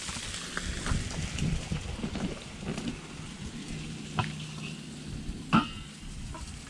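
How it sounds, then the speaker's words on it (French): A wild boar civet simmers in a pan, giving a steady rain-like crackle and sizzle with occasional sharper pops and clinks, close and continuous. "je suis en train de me faire cuire là un petit civet de sanglier"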